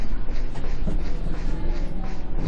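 A London Underground train in World of Subways 3 rumbles and clatters on the rails as it pulls away, a continuous mid-level rattling roar with faint voice.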